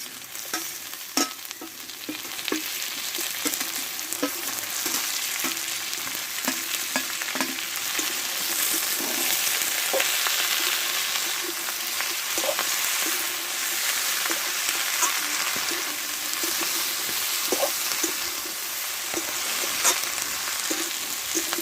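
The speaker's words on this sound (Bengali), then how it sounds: "পুঁই শাকটা আমি দিয়ে দিব দিয়ে একসঙ্গে একটু কষে নেবো আমি" Malabar spinach and mixed vegetables, cooked with fish oil and fish, sauté in a hot pan, giving a continuous loud sizzle broken by frequent scraping stirs, close up and without talk.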